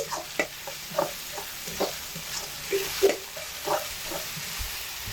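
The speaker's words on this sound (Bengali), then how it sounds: "এগুলোকে একসাথে খুব ভালোভাবে কষিয়ে দিচ্ছি দুই থেকে তিন মিনিট সময় ধরে এগুলোকে খুব ভালোভাবে কষিয়ে নিচ্ছি" Tomatoes stir-fried in a pan for an egg curry produce a soft, steady sizzle broken by repeated spatula stirs and scrapes, fairly close and moderate in level, with no speech.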